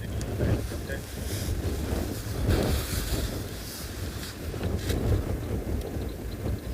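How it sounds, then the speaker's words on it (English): Wind buffets the microphone of an open safari vehicle in South Africa, a loud continuous rumbling roar that swells and eases in gusts throughout, with no talking. "I don't know if you can hear the wind or not, but I'm sure you can"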